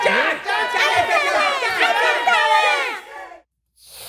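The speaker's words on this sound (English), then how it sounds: "Start cheering now." Children in an audience shout and cheer together at an elementary school event, a loud burst of overlapping young voices that fades out near the end.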